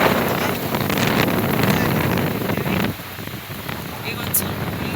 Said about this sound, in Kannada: ಗಾಳಿ ಭಾಳ ಜೋರು ಬಂದವಲ್ರಿ